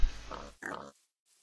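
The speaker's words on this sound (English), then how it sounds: "Don't feed the pigs with the melon or the pumpkins." Two close, clear pig oinks in the Minecraft video game, one after the other, followed by silence.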